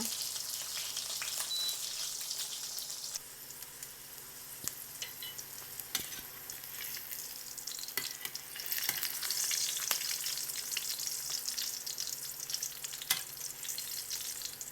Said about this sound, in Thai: อันนี้ใส่โรยเกลือไปแล้วก็เอามาทอดนะคะ